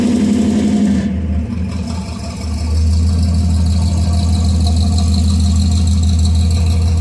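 1949 Studebaker gasser engine running steadily near the microphone, a low rumbling idle that dips briefly and then settles into a heavier, steady drone.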